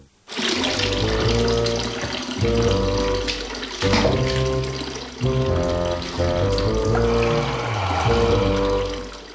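Hot water runs hard from a tap, a loud, continuous gushing pour that swells and shifts over several seconds, with a tonal musical bed running underneath it.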